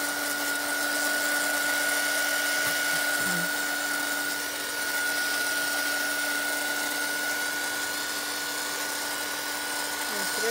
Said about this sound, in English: just go with your heat tool, if you've got one, and just kind of dry as you go